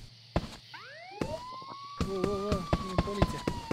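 A police siren wails in a video game, its rising and falling tones sweeping through the middle of the clip while players talk over it in Romanian-style gaming banter.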